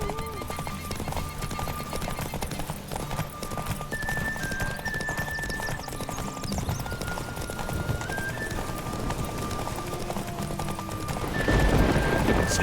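Horses gallop in a race in The Witcher 3, a steady clatter of hooves under constant background noise, with a brief whinny and a swell of louder hoofbeats near the end.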